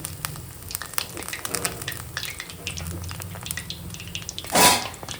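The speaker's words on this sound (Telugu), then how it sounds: "ఈ విధంగా గోల్డ్ కలర్లో వేగితే సరిపోతుంది" Ash gourd vadiyalu frying in hot oil, a continuous close sizzle and crackle with a brief louder burst near the end.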